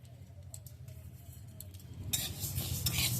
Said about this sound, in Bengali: এবার এই ডালগুলোকে আমি ভেজে নিচ্ছি।